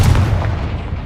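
Explosive blast from the Confringo fire spell in Hogwarts Legacy, a short, loud, dense rumbling burst with heavy low-end boom that stays sustained for about a second with no talk.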